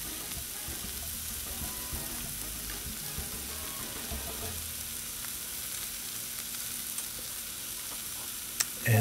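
Chicken fajitas with fresh lime juice sizzling on a Blackstone 22-inch griddle, a steady, broad frying hiss throughout with faint scattered crackles and a small clatter at the very end, no speech.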